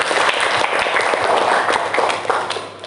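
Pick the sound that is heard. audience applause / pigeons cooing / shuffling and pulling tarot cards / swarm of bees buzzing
audience applause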